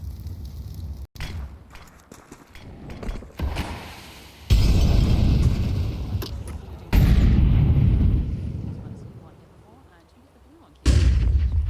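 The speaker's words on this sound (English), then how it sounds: "And he'll eat a nade." Loud grenade blasts in a Counter-Strike match at the IEM Cologne 2025 tournament, with several heavy booms, the largest near the middle and end, over gunfire and game noise.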